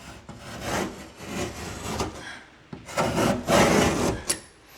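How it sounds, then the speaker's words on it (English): A keyhole saw cuts through drywall beside a stud during a repair around plumbing pipes, giving two bursts of raspy back-and-forth strokes separated by a short pause, close and fairly loud with no talk. "It's just the keyhole saw."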